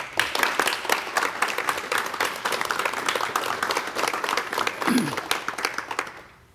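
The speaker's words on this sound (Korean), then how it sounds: "여러분 환영의 박수를 부탁드리겠습니다" An audience claps in sustained applause that fills the room, then tapers off at the end.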